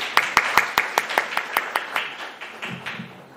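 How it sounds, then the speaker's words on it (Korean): Clapping at a policy debate forum welcoming a village head to speak, a short run of distinct, evenly spaced claps from what sounds like a few people, fading in strength, with a faint voice near the end. "박수로 맞이해 주시기 바랍니다"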